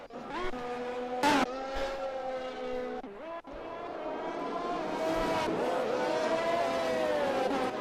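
Formula 1 race cars in the video game F1 2021 whine and rev with rising and falling engine tones. A sharp burst near the start and a dip midway break a continuous loud drone, with faint commentary underneath.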